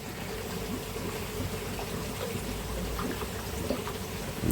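A stream of air bubbles in a koi pond, making a continuous soft bubbling, watery gurgle at low level with no pauses.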